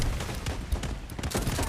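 Rapid gunfire from the mobile shooter game Delta Force Mobile in shotgun mode, as a dense, loud, continuous burst of shots and booms filling the short moment without clear speech.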